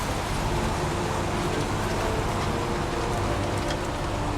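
Steady rain falls in the video game Heavy Rain, a dense, even hiss that runs unbroken and fairly loud throughout, with a faint low rumble beneath it and no voices.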